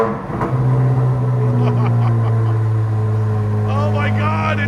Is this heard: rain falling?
no